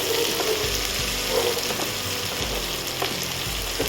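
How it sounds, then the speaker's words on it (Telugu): Spiny gourd (boda kakarakaya) pieces frying in plenty of oil make a loud, close, continuous sizzle, with occasional stirring scrapes and no talking. "ఫ్రై అవుతున్నాయి. ఇలా మంచిగా ఫ్రై అవ్వనివ్వాలి."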